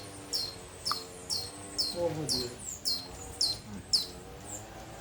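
Mango hummingbirds at a bird sanctuary give repeated sharp, high chirps at a steady, quick rhythm, close and distinct, while a person talks briefly in the background.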